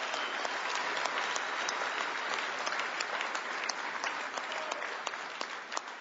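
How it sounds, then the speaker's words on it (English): Sustained applause from a large crowd at a CWA legislative-political conference for a labor leader, a thick, even roar of many hands with crisp individual claps poking through, steady and somewhat distant. "he deserves a big round of applause"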